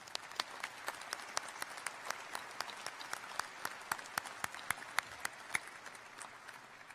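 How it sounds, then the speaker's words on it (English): At a university commencement ceremony, a sparse audience gives a round of applause, with distinct individual claps ringing out fairly evenly over a soft, distant wash of clapping in a large hall. "Another round of applause for Charles Suka."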